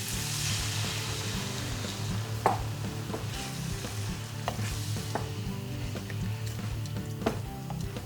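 Red wine hits a hot pan of vegetables for a vegan bourguignon, giving a steady close sizzle with occasional sharp clinks and scrapes of stirring and no talking.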